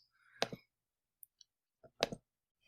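Mouse clicks during a software demo of a virtual classroom: two sharp, close clicking bursts a second and a half apart, with a few faint ticks between them, in otherwise quiet surroundings.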